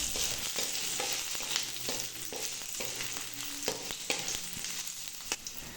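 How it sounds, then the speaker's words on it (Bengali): Ginger and garlic cloves fry in hot oil in a pan for a Bengali potol peel vorta, a continuous sizzle broken by scraping stirs and small clicks of the spatula, close and steady without any talk. "রসুনের কোয়া দিচ্ছি, আদা দিয়ে দিচ্ছি, আদাগুলোকে ভেজে নিচ্ছি"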